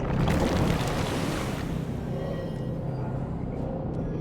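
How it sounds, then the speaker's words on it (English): Flood water from a burst dam washing over a camp in the Dungeons 2 video game, a loud rushing surge that gradually settles into a softer continuous watery wash with faint gurgles. "The gathered evilness then burst the nearby dam, and the Alliance's camp disappeared under waves of water with a very satisfactory gurgling sound"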